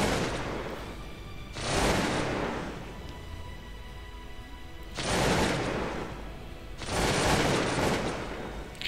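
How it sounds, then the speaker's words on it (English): Volleys of massed musket gunfire from Cossacks 2: Battle for Europe, a Prussian battle, come as three loud bursts with quieter crackling in between. "We are under gunfire."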